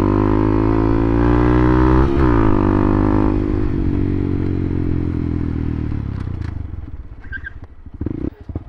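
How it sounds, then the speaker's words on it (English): A BMW K1200 motorcycle runs with a loud, steady engine drone that shifts pitch as it rides, then eases off toward the end with some clattering and scraping noises. "I got a BMW K1200."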